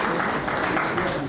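Audience applause fills the room at a welcome for a speaker at an evening talk on healthy eating, a steady dense wash of clapping heard throughout the brief moment.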